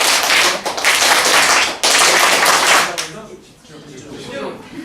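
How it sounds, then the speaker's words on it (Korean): An audience in a corporate training session performs a rhythmic focus clap, two loud bursts of many hands clapping together, then a quieter stretch with a voice talking. "집중 박수 시작!"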